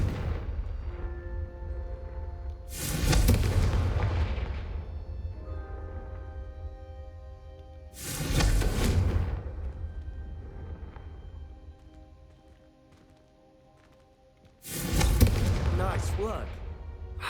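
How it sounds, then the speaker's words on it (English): Three loud, blast-like whooshes of the Confringo fire spell in Hogwarts Legacy, each a few seconds long and spaced roughly five to six seconds apart, over background game ambience and music. "a Confringo cast travels a bit farther than that of a spell like Incendio"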